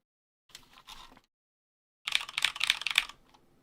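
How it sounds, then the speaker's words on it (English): Keys typed on a gaming keyboard with Cherry MX Brown switches, close up: a short tentative pair of presses, a pause, then a quick burst of crisp clacking keystrokes, with no voices. "The same Cherry MX Browns that are over in the old gaming keyboard."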